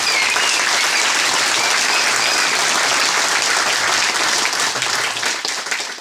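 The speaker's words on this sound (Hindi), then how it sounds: "तो तुमके लिए थोड़ा सा एक्स्ट्रा ताली बजा दीजिए" Sustained, loud audience applause fills the whole stretch, a dense wash of many hands clapping at a motivational RCM talk, tapering slightly at the end.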